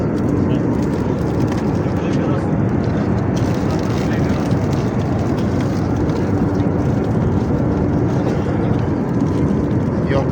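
Inside an airplane cabin in flight, a loud, steady engine and air rumble fills the space without letup, with voices talking faintly underneath.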